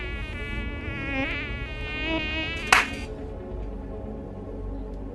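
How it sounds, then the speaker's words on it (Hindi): Mosquitoes buzz close and loud in Delhi, a high wavering whine that rises and falls with one sharp burst partway through. "ये होते हैं हमारी दिल्ली के मच्छर"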